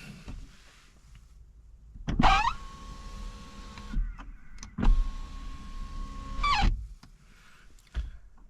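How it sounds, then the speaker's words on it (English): A BMW i4 power window motor whines as the glass winds down, with clunks at the start and stop of each run; two runs, close by. "what happens if I decide to wind down the window? This is what I'm going to get."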